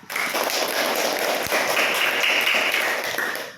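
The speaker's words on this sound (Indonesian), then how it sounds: "tepuk tangan untuk kawannya yang sudah maju ke depan" A classroom of students claps steadily for a classmate who has just presented, a dense, even patter of many hands filling the room and then tapering off at the end.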